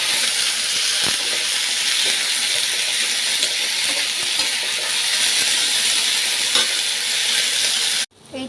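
Potatoes sizzle in hot tempered oil for a spiced kudri and potato fry, a steady dense crackling hiss with a few scraping clicks, holding loud and even before cutting off abruptly near the end.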